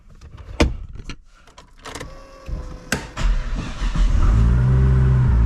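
A car engine cold-starts after a few clicks and knocks, turning over and catching into a loud, steady idle that fills the end, heard up close with no talk.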